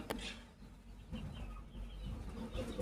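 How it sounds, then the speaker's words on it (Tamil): Chickens cluck softly at a distance, with a few short calls over quiet outdoor background noise. "இன்னும் ரெண்டு சேவல் வந்துருச்சு"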